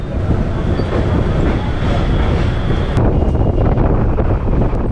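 A local train on the Howrah to Midnapore line runs at speed between Chengail, Phuleswar and Uluberia, a loud continuous rumble with rattling carriages and wind buffeting the microphone, shifting tone sharply partway through.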